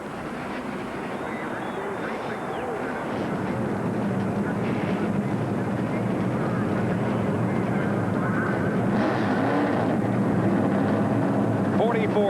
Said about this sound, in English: Drivers answer the call. They have fired their engines